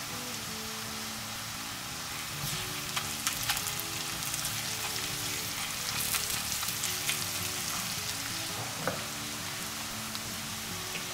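Steady, dense sizzling of onions frying in hot oil over medium heat, with a few scattered clicks and scrapes of stirring over a faint low hum.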